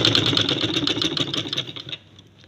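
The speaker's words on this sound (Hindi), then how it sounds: "इस तरह से मैंने इसको खींच के सिलाइयाँ लगानी है।" A sewing machine runs steadily, stitching stretched elastic onto a balloon sleeve, its fast rhythmic needle chatter close and fairly loud before cutting off abruptly near the end.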